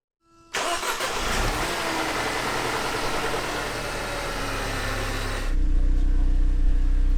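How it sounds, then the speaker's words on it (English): A supercharged classic Mercedes engine cranks and catches after sitting for weeks, then settles into a steady close idle that steps up to a louder, deeper running tone near the end. "and we can start the engine."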